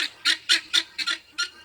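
Harsh, raspy squawking calls from male guinea fowl come in a rhythmic series of about six loud bursts, close by and with no voices.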